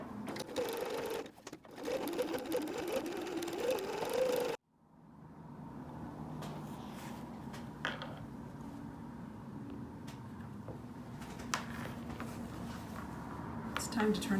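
Sewing machine zigzag stitching along the raw edge of fabric for a water bottle sling, a loud steady whirring run that stops abruptly, then restarts at a lower, quieter hum with light clicks.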